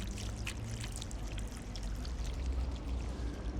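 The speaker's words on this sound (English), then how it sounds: "there's a fountain over there that I'm gonna go get some water" Water running from a public drinking fountain on a street in Yerevan's Arabkir district, Armenia: a steady, fairly soft pouring and trickling stream with occasional splashy spatters, continuous throughout with no talk.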